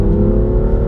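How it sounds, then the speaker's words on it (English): A 2017 BMW M2 engine and exhaust sounds as a steady, loud, close droning growl with rich low harmonics under acceleration. "the crisp tone of that exhaust note on the M2, I love it"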